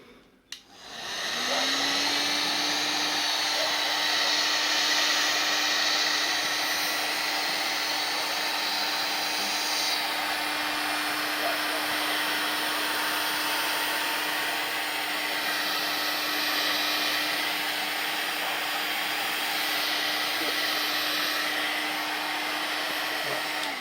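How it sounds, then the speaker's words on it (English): A heat gun shrinks heat-shrink tubing onto a handmade 3.5 mm jack to dual RCA audio cable, giving a steady, close, loud blowing whoosh with a faint whine that runs unbroken for over twenty seconds. "we're going to shrink that down using our heat gun"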